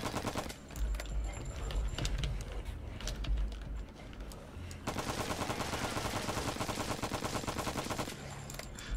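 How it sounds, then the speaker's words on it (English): A rifle in a video game firing over and over in quick automatic bursts, steady rattling volleys with a short pause before the shooting resumes, voices talking quietly underneath. "For firing the rifle X number of times."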